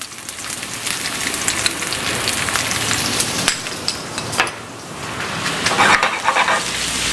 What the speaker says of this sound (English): So we're just going to saute this for just about a minute.